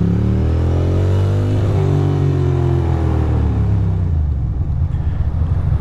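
A Ducati Monster 620 motorcycle engine revs loud and close while riding, the pitch rising and falling in sweeping harmonics over a steady rumble, with no voices.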